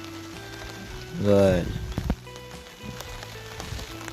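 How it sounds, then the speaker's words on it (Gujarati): Steady rain patters across the whole clip, with a brief burst of speech rising over it near the middle. "વરસાદ તો રોકાવાનું નામ જ નથી લેતો"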